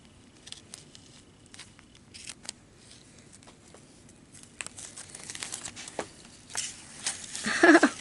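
Tape peeled off a Dollar Tree bunny figure, with soft crinkling and scattered tearing snaps close by. The sounds come in irregular bursts and grow louder and busier toward the end, with no talking.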